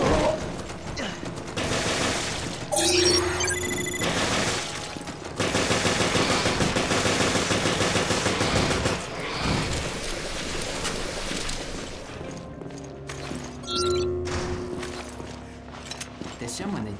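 Gunfire in Resident Evil Revelations: rapid bursts of automatic shots and loud repeated blasts rattle through most of the stretch, with pauses and mechanical clanks between volleys, while someone talks over the action.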